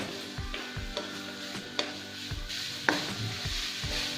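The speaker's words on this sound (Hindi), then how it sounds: "इसको कद्दूकश की हुई गाजर को मैंने इतना फ्राई करना है कि इसका कलर, हल्का सा कलर चेंज हो जाए।" Grated carrot fries in a pan with a soft sizzle, broken by regular scraping and knocking strokes of a spoon stirring it.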